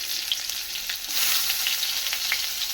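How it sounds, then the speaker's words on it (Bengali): Onions dropped into the hot oil left from frying prawns: a dense, continuous crackling sizzle, close and steady for a few seconds, with no voices. "ওই তেলেতেই আমি পেঁয়াজ দিয়ে দেবো"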